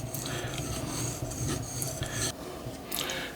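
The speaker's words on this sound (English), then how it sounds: "I'll move to the 5000 grit stone" A deba knife is stroked over a wet 5000 grit whetstone, giving a steady run of rasping, scraping strokes in an even rhythm, close and fairly loud, with no talking.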